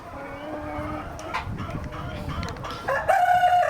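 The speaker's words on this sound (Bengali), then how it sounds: "দেখেন মুরগিগুলা খুব সুন্দর।" Multicolor tiger chickens cluck and crow nearby in a poultry shed; a steady stream of clucks gives way to a loud, sustained rooster crow near the end, with no talking.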